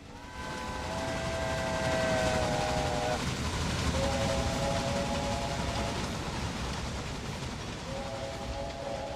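Trains run on a shared line in Railway Empire, a steady rolling rumble carrying repeated two-tone steam whistle blasts that sound, stop and return, with no voices.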